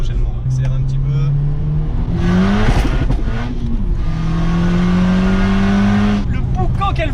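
Tuned stage 3 Skoda Octavia with roughly 550 horsepower revving hard, its wastegate opening with whooshing releases as the engine climbs and drops across several pulls, loud and close, with people talking over it.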